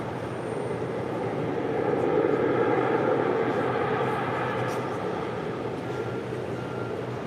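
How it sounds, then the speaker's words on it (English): Air Premia Boeing 787-9 Dreamliner heavy arriving from Seoul on the north side at Los Angeles International Airport, a continuous jet roar that swells slightly in the middle and then holds steady, with faint talk beneath it. "Next, heavy arrival on the north side. Air Premia, flight 101, coming in from Seoul."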